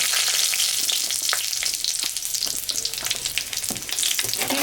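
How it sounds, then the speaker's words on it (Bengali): Dried red chilli and five-spice seeds sizzling in hot mustard oil, a loud, dense crackle and spit near at hand with scattered sharp pops and no talking. "আমি এখন আর একটু সর্ষের তেল দিব তেলটা গরম হয়ে গেছে শুকনো লঙ্কা একটা আর একটু পাঁচফোড়ন সম্বরা দিব"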